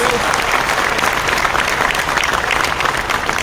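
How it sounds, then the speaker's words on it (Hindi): An audience at an RCM business event claps hard and continuously, a dense, loud wave of applause filling the room with no break and no voices standing out. "ऐसे तो ताली नहीं बजा रहे ना?"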